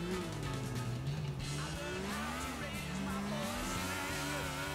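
A car drives hard with a revving engine and squealing tires as it skids and slides in the GTA IV video game, loud and continuous, with a voice talking briefly over it.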